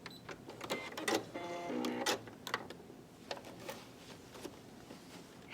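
A sewing machine fitted with a ruffler foot stitches in short, uneven bursts, the rapid mechanical chatter of needle and gathering blade mixed with clicks and whirs, fairly close and moderately quiet, with no one speaking.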